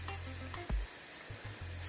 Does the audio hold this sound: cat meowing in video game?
no